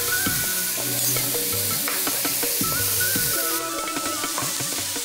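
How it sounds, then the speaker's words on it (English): Onion paste frying in hot oil with salt, a steady bright sizzle running throughout, close and loud, with occasional stirring clatter and faint background music-like tones. "I've blitzed the onion into a smooth paste and mix that through the hot oil"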